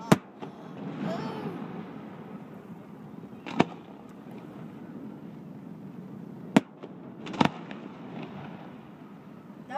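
Fireworks at a Christmas festival in Lake Arthur, Louisiana, with a few sharp nearby bangs and crackles scattered over a constant low rumble of distant bursts and crowd noise.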